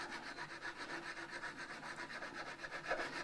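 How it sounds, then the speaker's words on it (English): A file rubs back and forth in a steady, quiet rhythm across the frets of a Gibson ES 335 guitar, rounding them off during recrowning, with no talking. "So I'm just recrowning now"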